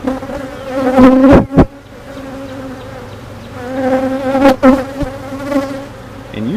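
Honey bees buzz loudly around an opened hive, a dense, steady drone with sharp rising whines as individual bees fly close past, with no voices.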